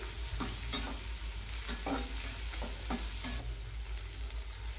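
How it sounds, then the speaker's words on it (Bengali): Capsicum and carrot frying in a pan, giving a continuous soft hiss with light, irregular taps and scrapes of a spatula stirring the vegetables. "ক্যাপসিকামটাও 1 মিনিটের মতো এইভাবে ভেজে নিতে হবে।"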